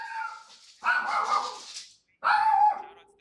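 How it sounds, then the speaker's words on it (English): Dogs bark and yip in close, loud bursts, three yelping outbursts separated by short gaps, heard alone over game audio. "Why do we hear the dogs more than the casters?"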